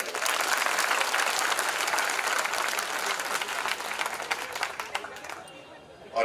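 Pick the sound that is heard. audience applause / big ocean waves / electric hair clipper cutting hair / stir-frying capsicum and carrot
audience applause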